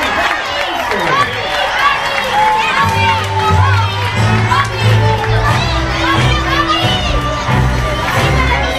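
Children and adults clap, cheer and shout together at a birthday party in a Chuck E. Cheese's restaurant, a loud, bustling crowd din full of excited kids' voices, with a sustained low hum running underneath.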